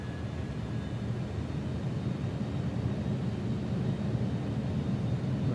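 Airliner cabin ambience in X-Plane 12 as the landing gear is lowered on approach, a steady low engine and airflow rumble with a faint whining tone, continuous and even, no voices.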